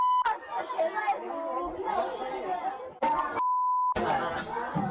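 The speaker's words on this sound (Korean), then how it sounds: "삐삐 처리되면 우리는 다 알아들어요" Censor bleep, a steady pure tone lasting about half a second, cuts over swearing in lively chatter among middle school students, with voices talking and murmuring before and after it.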